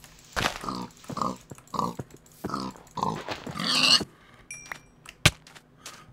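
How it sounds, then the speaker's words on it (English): Video game pigs grunt and oink in a rhythmic series of close, loud snorts, followed by a higher squeal-like sound and a sharp hit near the end. "Oh, there's two other pigs in the vicinity."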